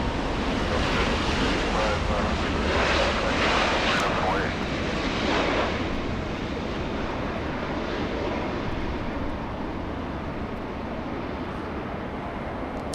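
A Delta airliner lands on runway 24 left at LAX, a broad rumbling roar buffeted by wind that swells early and slowly fades, heard from a distance.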